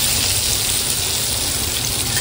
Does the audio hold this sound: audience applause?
no